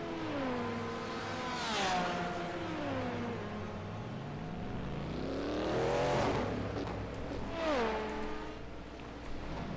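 An LMP2 prototype race car in a racing video game pulls out of the pits and accelerates, its engine rising through several gear changes with falling pitch at each shift, then revving up again as it pulls away.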